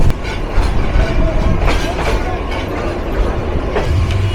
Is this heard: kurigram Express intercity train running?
yes